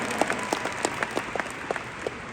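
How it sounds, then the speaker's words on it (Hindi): An audience at a Delhi success-day event claps for Krishna, with scattered, uneven hand claps rather than a dense ovation. The applause is moderately close and carries on steadily without voices. "एक बार कृष्णा के लिए दोबारा ताली मार दो"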